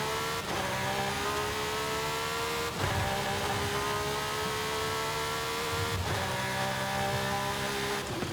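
Lamborghini Sian engine in Forza Horizon 5 revs loudly and steadily, with quick gear changes. Brief dips and jumps appear near the start, at about 3 seconds and at about 6 seconds.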